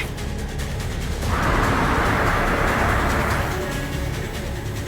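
A car drives along a road with a steady engine and road rumble, swelling louder for a couple of seconds as something passes nearby, then settling back to a constant drone.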